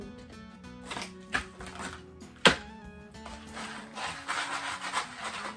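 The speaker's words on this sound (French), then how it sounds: "Ça sonne comme des vis encore, hein? Des vis, des crochets." A bag of screws and hooks being handled, giving scattered rustling and light metallic rattles, with one sharp clink and quieter shuffling after, close and faint.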